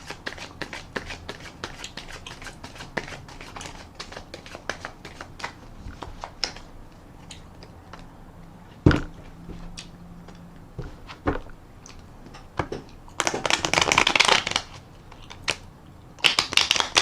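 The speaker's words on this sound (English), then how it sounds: "Cut the deck." A deck of tarot cards being shuffled and handled at close range, with quick papery riffles and taps scattered throughout and louder bursts of shuffling near the end.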